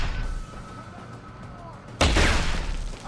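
Gunfire bursts in the video game Deus Ex: Human Revolution, a faint distant shot early on, then a loud heavy close volley erupting about two-thirds through and ringing out to the end.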